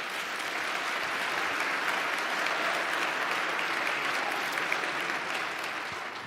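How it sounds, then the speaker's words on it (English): Steady, sustained audience applause during a talk on social media and deepfakes, a dense wash of clapping from a full room that holds evenly for several seconds before easing slightly at the end. "That's the first time I've ever gotten applauded."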